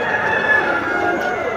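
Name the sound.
roosters crowing at a bird market in Mecca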